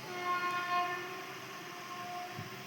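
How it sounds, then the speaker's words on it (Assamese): A Vande Bharat Express train approaching near Jammu on the Kashmir line, heard as a faint, sustained tonal horn over a soft distant rail rumble. "বন্দে ভাৰত ট্ৰেইন আহি আছে।"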